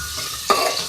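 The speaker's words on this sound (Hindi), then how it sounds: "इसी ऑयल में मैं ऐड करूँगी शलजम, इसको भी फ्राई करेंगे।" Turnips fry in hot oil in a home kitchen, giving a close hissing sizzle with a quick stirring scrape partway through, brief and without speech.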